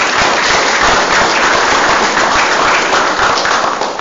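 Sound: audience applause at a city council meeting

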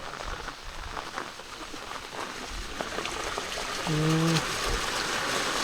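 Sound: rainwater flowing and trickling during heavy rain

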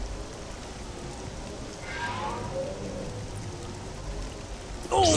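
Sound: acid rain falling in video game Star Wars: Jedi Academy

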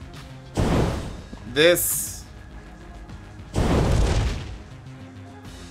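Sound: gun shooting bullets in the video game Enter the Gungeon

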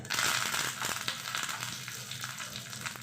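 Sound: curry leaves sizzling in tempering oil

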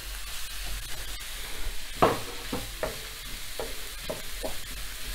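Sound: chopped bell pepper and carrots sautéing in a pan

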